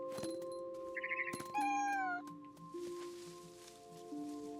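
A cat meows in the video game What Remains of Edith Finch, a few short, clear mews over steady game music and ambient tones, with no talking.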